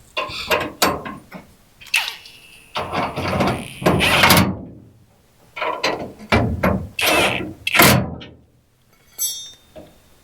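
Bolts on a Chevy C10 rear bumper being fitted to an old Dodge D150 are snugged with a ratchet, giving repeated bursts of close metallic ratcheting clicks separated by short pauses.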